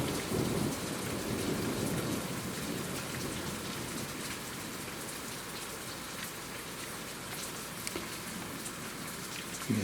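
A thunderstorm with rain and hail over Cambridge, UK: dense, steady rain and pattering on surfaces with a low rumble of thunder beneath, loud and continuous throughout, with no voices.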